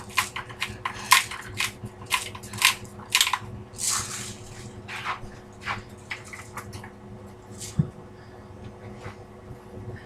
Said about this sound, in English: I need to ground up some more black pepper put in there.